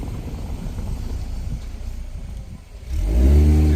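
Road traffic on the high street of a small town of about 2,000 people, a steady rumble of passing cars with a louder vehicle engine swelling close by near the end.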